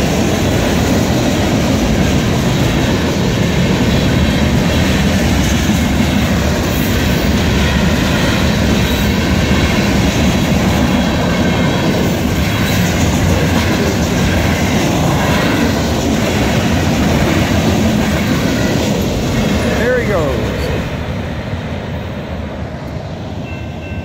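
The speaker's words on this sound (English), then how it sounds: "Got a Norfolk Southern train coming." A Norfolk Southern freight train rolls past with a loud, continuous rumble and rail clatter that holds steady for over twenty seconds before easing slightly at the end, with no voices.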